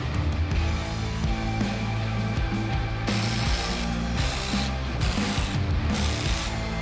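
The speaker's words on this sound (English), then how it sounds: "Now using a 10 mil, we're going to remove the 4 bolts on the bottom and then the 4 bolts on top that are holding the grille in place" A hand ratchet with a 10 mm socket loosening the grille bolts on a 2014-2018 GMC Sierra 1500 pickup, rapid clicking pawl strokes close to the microphone in steady back-and-forth bursts, no talking.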